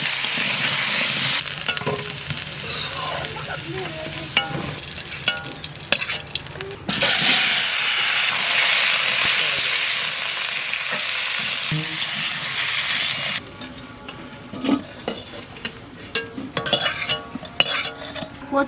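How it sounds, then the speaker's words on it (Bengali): Pieces of taro fry with salt and turmeric in a hot pan and are stirred with a utensil, a loud continuous sizzle broken by scraping and clinking against the pan, with a quieter stretch of frying toward the end. "কচুতে একটু লবণ আর হলুদটা দিয়ে একটু ভেজে নেবো।"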